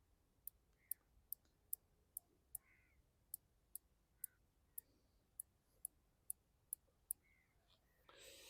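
Rifle scope turret dial being turned, a series of about fourteen crisp, faint mechanical clicks at a fairly even pace, close up in a quiet room, ending with a brief rustle.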